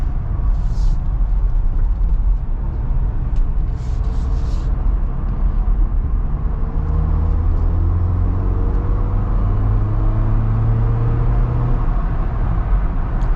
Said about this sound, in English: You hear the wind noise up here too, but the road noise is so loud that the wind noise is actually quiet.